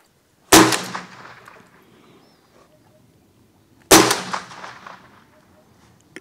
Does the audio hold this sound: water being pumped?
no